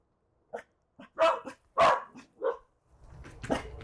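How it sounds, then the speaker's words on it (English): Two dogs bark in a series of sharp woofs and yips nearby, with a low rustle underneath toward the end, heard during a fly-tying session. "A couple dogs barking."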